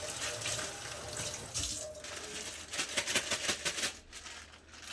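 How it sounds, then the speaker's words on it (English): Potatoes rinsed under a running kitchen tap, water splashing steadily into the sink, close and fairly quiet, with bursts of rattly splatter as the potatoes are turned in the stream. "first thing we're gonna do, rinse off our potatoes."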